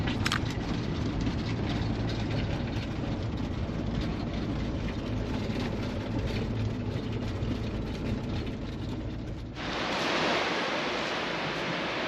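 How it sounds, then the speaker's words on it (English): Waves washing steadily onto a beach near a harbour town in January, a continuous loud roar of surf with a brief change in texture near the end, and no voices. "Got ourselves a nice beach,"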